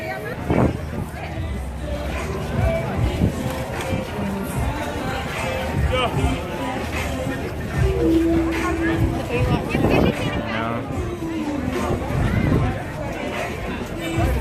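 Crowd chatter at Muscle Beach in Santa Monica on Memorial Day, a steady outdoor babble of many voices mixed with footsteps and nearby talk, filling the whole stretch at a moderate level.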